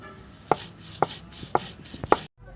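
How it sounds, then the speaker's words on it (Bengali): Poppy seeds, green chilli and ginger are ground by hand in a close, rhythmic series of four firm strokes roughly half a second apart, each a dull knock over faint scraping, before a sudden stop. "এখানে আমি পোস্ত আর লঙ্কা বেটে নিচ্ছি।"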